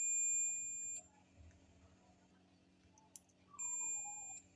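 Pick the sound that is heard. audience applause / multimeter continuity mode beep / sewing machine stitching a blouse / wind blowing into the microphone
multimeter continuity mode beep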